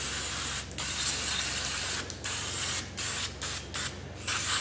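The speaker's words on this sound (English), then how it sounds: "Don't be afraid to use up a good can of brake parts cleaner." Aerosol can of brake parts cleaner spraying onto rear brake parts of a Hyundai Elantra: a loud, steady hiss held in several long bursts, broken by brief pauses, close up and alone.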